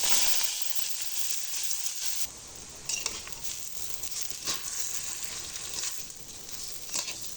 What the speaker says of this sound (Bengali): চালটা আমি খুব ভালো করে ভেজে নিয়েছি।